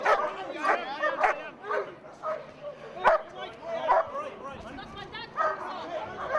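Police dogs bark and yip amid a chaotic riot scene in Hackney, with several sharp barks scattered through overlapping shouting and excited voices.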